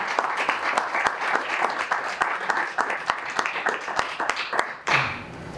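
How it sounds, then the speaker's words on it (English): An indoor audience applauds a featured speaker at the first event of a business speaker series, dense steady clapping for several seconds before it stops abruptly and a voice begins. "So a round of applause."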